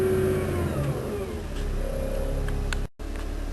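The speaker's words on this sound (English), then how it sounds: "We'll rev the motor up. That's a full RPM right there" The engine of a 2013 LiuGong 856 wheel loader revs up to full RPM, a steady, loud mechanical roar heard from inside the cab, briefly cutting out near the end.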